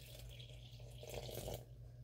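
A short, steady splash of half a cup of water pouring into a mixing bowl for muffin batter, fairly quiet, with no voices.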